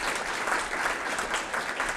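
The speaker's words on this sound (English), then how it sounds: "let's give another round of applause for Tim for being willing to step out." Audience applause at an evening event about hope against heroin addiction, steady and continuous clapping from a fairly large crowd filling the whole moment at even strength.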